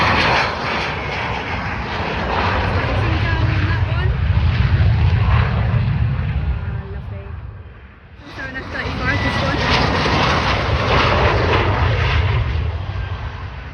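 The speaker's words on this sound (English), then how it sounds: "We've got something landing now. It's an F-35." An F-35 Lightning fighter jet coming in to land at RAF Lakenheath makes a loud, continuous engine roar. The roar dips briefly midway, then swells again and holds steady.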